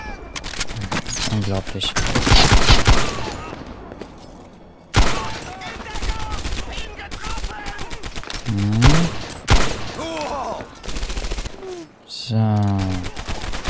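Rifle fire in Medal of Honor Airborne cracks out in loud, close bursts and rapid volleys while someone talks over the combat.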